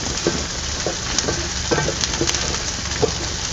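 Raw peanuts sautéing with fried onions in a hot pan for ukadpendi, a steady close sizzle with scattered light stirring scrapes throughout.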